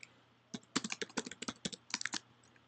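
Quick bursts of keystrokes on a computer keyboard, about two dozen close, crisp clicks in an uneven rhythm over a quiet background, with no voices.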